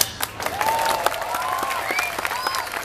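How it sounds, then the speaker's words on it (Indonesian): A crowd at an Islamic New Year gathering breaks into applause, a steady dense wash of many hands clapping at once, with faint whistles or calls rising over it and no talk. "Tepuk tangan ya."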